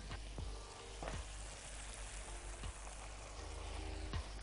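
Curry sauce with water added sizzles and bubbles steadily in a pan, a continuous frying hiss punctuated by a few soft pops.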